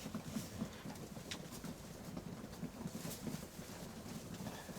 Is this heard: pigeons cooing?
yes